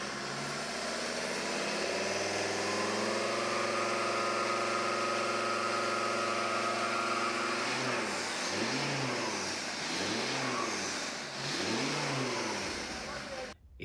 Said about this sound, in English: Just revving it in the workshop, the turbo whistled massively through the intake